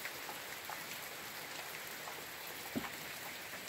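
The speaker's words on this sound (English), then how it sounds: "I don't know how long this is going to take to stop raining." Steady rain falls in a soft, continuous hiss with occasional nearby drips, faint and unbroken throughout, heard from shelter inside a root cellar.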